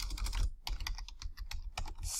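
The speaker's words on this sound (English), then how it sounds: "We're going to type in the street address and the address" Fast typing on a computer keyboard as a street address is entered into bookkeeping software, a close, steady patter of crisp key clicks with short pauses between bursts and no talking.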